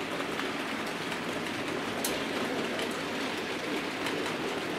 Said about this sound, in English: once the Gatwick Express freight train has done one more circuit